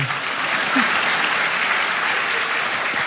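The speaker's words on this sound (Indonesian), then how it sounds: "ya tepuk tangan" A church congregation claps together in sustained applause, dense and fairly loud, with a faint voice or two underneath.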